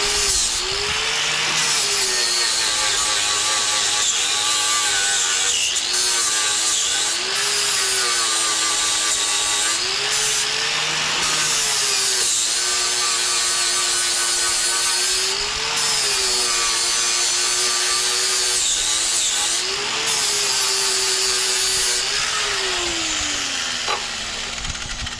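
A cut-off wheel on a grinder strips paint from scrap angle iron in a shop, a loud continuous high whine that holds steady and dips in pitch briefly as the wheel bites in.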